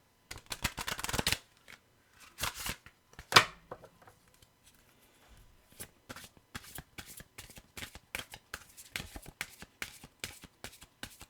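Tarot cards shuffled by hand in repeated quick riffling bursts with short pauses between, close and crisp against near silence, no talking.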